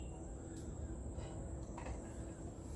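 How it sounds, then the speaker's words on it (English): Crickets chirp in a steady, high, continuous trill, with faint outdoor ambience and a few distant bird notes. "the birds are gone and the crickets are coming"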